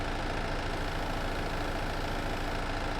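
A small Kubota tractor engine idling in the Farming Simulator 22 video game, a steady, even rumble that holds at a constant level throughout with no talk over it.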